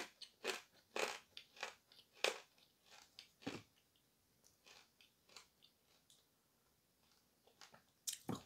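Dry pieces of Ural blue clay bitten and chewed close up, a series of sharp crunchy bites followed by quieter, softer chewing crunches, then another loud bite at the end, with no talk.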